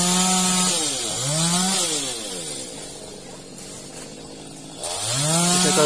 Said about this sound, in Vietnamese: cưa cái cây chết khô này trước